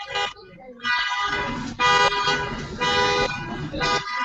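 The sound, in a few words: car alarm going off outside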